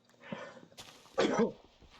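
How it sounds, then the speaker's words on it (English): A few short, harsh coughing bursts close by, with a louder, sharper one near the end, in an otherwise quiet setting. "Sorry, coughing a bunch"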